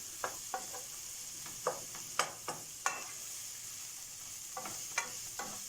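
Chicken breast, onion and mushroom stirred in a pan, heard as a soft sizzle under a series of sharp spoon scrapes and knocks, quiet and close, with no speech.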